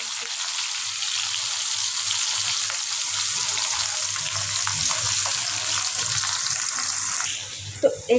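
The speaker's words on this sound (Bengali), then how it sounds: "মুরগির জন্য আমি এই পিসে কড়াই তেল দিয়ে দিছি আর কি।" Oil sizzles and crackles steadily in a wok as chicken curry is started, a loud continuous frying hiss heard close up, with a few clinks near the end.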